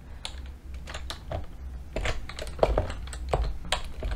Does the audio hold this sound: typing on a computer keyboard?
yes